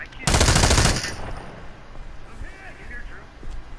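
A burst of rapid automatic gunfire from the America's Army video game, loud and close for under a second, then quieter game sounds and faint distant shots.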